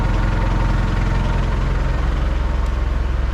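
Engine of an International tractor idling steadily to power a hydraulic log splitter, a continuous low, throbbing rumble with a regular pulsing beat, close and loud throughout with no voices.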